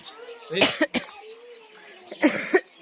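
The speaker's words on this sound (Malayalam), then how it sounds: "എനിക്കിവിടെ എനിക്ക് ചുമ വന്നു കേട്ടോ" Several sharp coughs in short bursts, a pair early and another pair later, with quiet murmuring in between.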